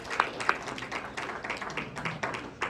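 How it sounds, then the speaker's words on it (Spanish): Scattered applause in a church congregation, light clapping with a few sharper claps, fairly faint and thin, as if from a modest crowd in a hall. "Si quiero un aplauso para que despierten todos"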